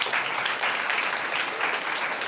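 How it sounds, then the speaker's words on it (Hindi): Dense, steady applause fills a church service's Sunday meeting, a continuous crowd of clapping hands held at an even level throughout with no pauses. "ताली बजाओ परमेश्वर।"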